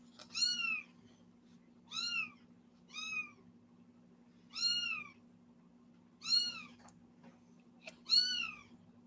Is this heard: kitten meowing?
yes